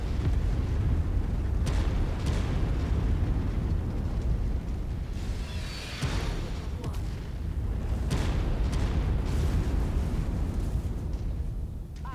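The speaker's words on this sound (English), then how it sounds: "Didn't get all the artillery by the sounds of it." Artillery fire and explosions roll across a Mechwarrior 5 Mercenaries battlefield, dense and continuous booming rumble filling the whole stretch with a brief dip midway, heavy low-end blasts layered over each other.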